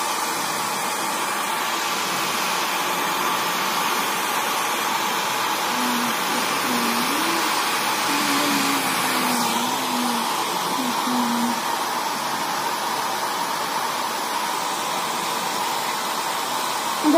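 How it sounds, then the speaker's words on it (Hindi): A hair dryer blows in a steady, loud whooshing roar for the whole stretch as wet hair is dried on a cold winter day, with a faint voice briefly humming underneath. "हम लोग अभी हेयर ड्रायर यूज करेंगे। ये मेरा हेयर ड्रायर।"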